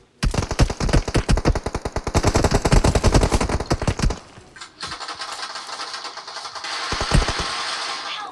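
Automatic gunfire in the PUBG Mobile shooter game, a rapid loud burst of repeated shots lasting about four seconds, followed by a softer stretch with scattered shots and game noise.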